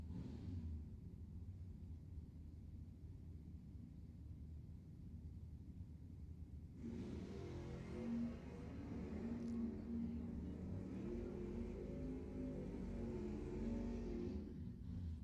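A Chevrolet Nova and a Ford Mustang launch at a drag strip, heard as a distant low engine rumble that abruptly rises into a louder, sustained roar halfway through and holds to the end.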